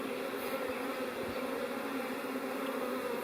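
A steady, continuous buzz of a honeybee swarm fanning at the hive entrance, dense and unbroken with no voices.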